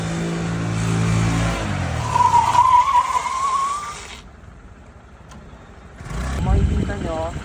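A Honda Click 125 motorcycle's rear tire skids under the rear combi brake during a stop from about 40 km/h. Steady engine and road noise give way to a rising squeal lasting a couple of seconds, then a quiet stretch before a voice speaks.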